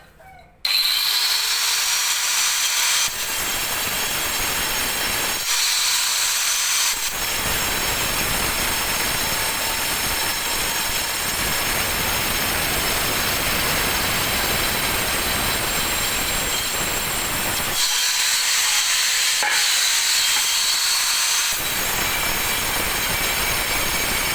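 A 4-inch angle grinder fitted with a tile-cutting blade cuts a circle in tile, giving a loud, continuous high whine that dips briefly a few times as the blade bites and lifts.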